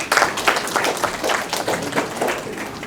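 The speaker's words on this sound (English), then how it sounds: "Can you give them a round of applause, please?" The audience at a debate competition gives a round of applause, heard as a string of moderately loud, uneven claps from a small group that continue steadily for a few seconds.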